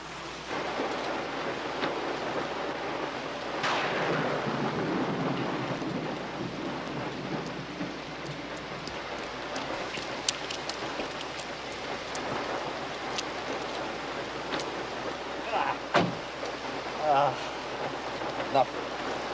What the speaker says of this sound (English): You don't like driving in heavy rain.